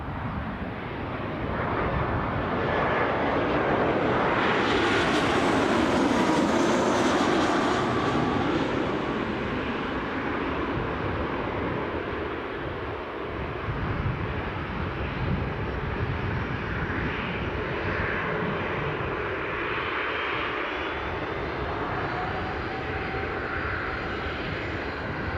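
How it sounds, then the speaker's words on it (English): Aircraft engines run on the apron at Newcastle airport, a loud, broad, continuous roar that swells and shifts in pitch as it carries across the open tarmac for the whole stretch. "Some beautiful aviation sounds kicking up now from the apron."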